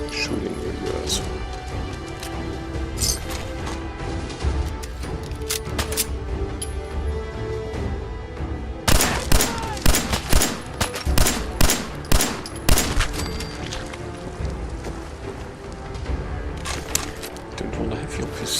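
Gunfire in Fallout 4, a cluster of loud sharp shots in quick succession mid-way, with sparser shots elsewhere over game ambience and someone talking between them.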